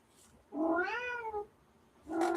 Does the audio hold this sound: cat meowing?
yes